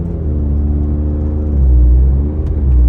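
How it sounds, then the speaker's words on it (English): Scion tC automatic transmission running after a shift solenoid replacement, with a steady engine drone and whirring drivetrain hum that dips and rises around mid-clip as a gear change comes through, close and fairly loud, with no voices. "now the gears are shifting, which it wasn't doing that before"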